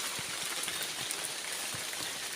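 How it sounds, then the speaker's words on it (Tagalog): Steady rain pattering on a surface during a hike at Lake Danao, Ormoc City, Leyte, with scattered louder drops, continuous and fairly close throughout. "Umuulan guys."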